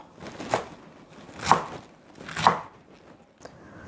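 A knife chops cleanly through washed Korean chives (buchu) on a cutting board, three distinct close thuds about a second apart followed by a fainter tap, with no talking.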